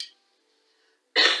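A single short, harsh cough close to the microphone near the end, after a near-silent stretch that opens with the tail of a similar burst, during a quiet yoga class.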